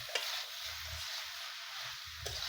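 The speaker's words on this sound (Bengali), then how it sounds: "সবগুলো মশলাকে আমি একসাথে একটু এইভাবে নেড়ে মিশাবো।" Ground spice pastes of onion, cumin and dry red chilli are stirred together in a pan for a Bengali village-style mutton and jackfruit dish, giving a steady soft scraping and faint sizzle with a couple of sharper spoon knocks, no talk.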